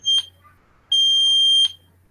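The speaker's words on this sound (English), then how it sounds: "it will produce the LED and the buzzer sound like this" A piercing laser security alarm buzzer gives a short blip, pauses, then sounds again in a longer steady burst before cutting off.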